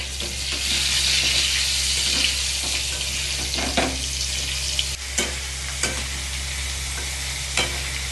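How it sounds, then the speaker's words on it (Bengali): Loud, constant sizzle of potatoes frying in hot oil, close by, with occasional scraping and clicking of a spoon stirring the pan. "তেলটা গরম হয়ে গেছে, আলুটা এখন ভাজা করব ধীরে ধীরে"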